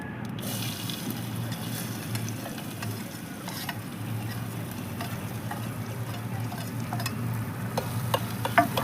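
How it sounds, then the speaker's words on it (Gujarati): Steady sizzling of food frying in a pan, a continuous crackling hiss with occasional stirring clinks, no voices. "પછી આપણે આ જે ડુંગળી છે એ આપણે નાખી દઈશું"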